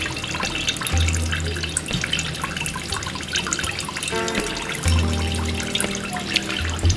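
Hydrosol trickling and dripping from a white fir essential oil still, small water streams and drips into a vessel with a few low gurgling bursts, close and fairly quiet, no voices.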